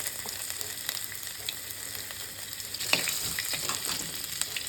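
Ginger and garlic fry in hot oil with cumin and fennel seeds, a steady close sizzle with small crackles and an occasional stir scraping the pan, no voices.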